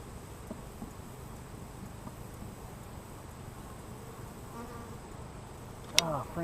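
Honey bees buzz steadily around two newly installed hives during a first-year beekeeping inspection, a dense continuous drone close by with a sharp knock near the end.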